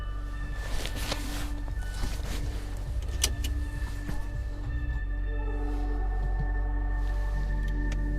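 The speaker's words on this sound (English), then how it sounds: "let's go for a little test drive and see what it's all about" A 2018 Mazda 3 with a manual transmission on a test drive, giving a steady, loud engine and road drone from inside the cabin, with a few brief clicks and knocks over the continuous hum and no talking.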